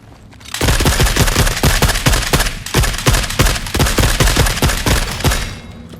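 Loud, rapid automatic gunfire in the shooter game The Forever Winter while firing at a Hunter Killer, a sustained burst of close, evenly spaced shots lasting several seconds.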